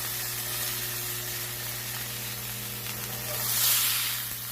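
Tuna steaks searing in a hot pan, a continuous close sizzle and hiss with a low steady hum beneath, swelling briefly louder near the end, no talking.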